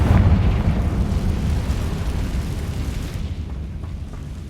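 A Confringo blasting spell explodes in Hogwarts Legacy, a loud deep boom that rumbles and crackles, then slowly fades over several seconds, with no talking.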